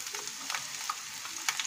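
Onion frying in a pan gives a soft continuous sizzle, broken by small pops and light scraping clicks, heard close and fairly quiet with no talking.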